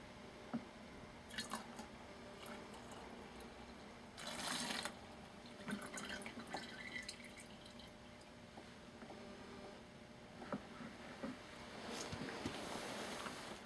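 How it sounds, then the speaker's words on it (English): Gasoline is poured into a liter of waste motor oil, heard as faint, quiet liquid trickles, drips and sloshing in irregular bursts, with one stronger splash near the middle and more pouring toward the end, with no talking. "This is 1 liter of waste motor oil, to which I'm going to add 200 milliliters of gasoline."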